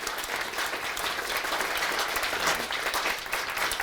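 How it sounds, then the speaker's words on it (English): Sustained audience applause at a Northfield, Minnesota board and commission appreciation event, a dense, even roar of many hands clapping without a break, moderately close. "Round of applause for everybody on that."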